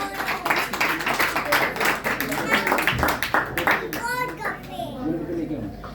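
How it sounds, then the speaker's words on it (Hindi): A crowd at an institute's award night claps vigorously in a quick, dense burst while children's voices chatter over and around it, the clapping fading out as the talk continues. "एक बार जोरदार तालियां हो जाए"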